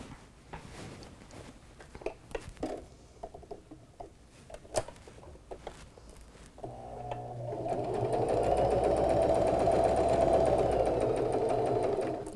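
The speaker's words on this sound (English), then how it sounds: "let's stitch this on the machine" After a few quiet handling taps, a sewing machine starts up and stitches fabric on a small first aid pouch, a loud continuous whirring run through the second half.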